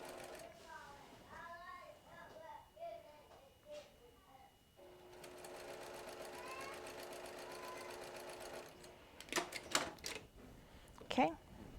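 Home sewing machine stitching quilt fabric and running straight over a pin, a steady mechanical whir in the middle stretch, with someone talking before it and a few sharp clicks near the end.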